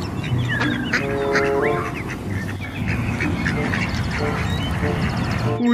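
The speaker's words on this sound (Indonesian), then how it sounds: "ternyata ini hewan bebek" A white domestic farm duck quacks and honks repeatedly, with goose-like calls mixed in, loud and close in a busy layered stream of poultry noise over a steady background.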